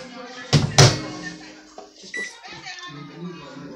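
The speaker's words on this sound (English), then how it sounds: "Put it in the microwave." Cookies being put into a microwave oven: two sharp, loud thunks of the door and handling close by, followed by softer clatter and faint beeps, with talk happening around the sounds.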